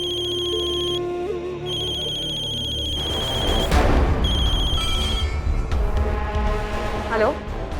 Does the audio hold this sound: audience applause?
no